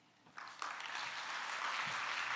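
An audience at an international symposium on UNESCO arts education breaks into applause after a speech, starting as a few scattered claps and swelling into steady, sustained clapping from the whole room.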